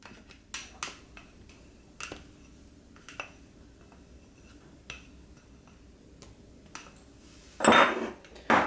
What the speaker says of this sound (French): Et je continue de fouetter.